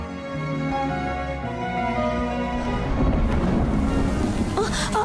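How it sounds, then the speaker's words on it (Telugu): Steady rain falls at night during a scene from the Tamil film Remo, a continuous wash of downpour with a low rumble, under soft music, no clear speech. "వర్షం ఒకటి పడుతుంది"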